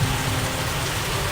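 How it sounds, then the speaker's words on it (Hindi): Rain falls steadily in a continuous, dense hiss of drops, even and moderately loud, with no voices. "देखो, बारिश, सचमुच बारिश हो रही है।"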